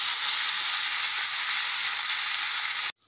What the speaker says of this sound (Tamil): இது நல்லா வதங்கட்டும்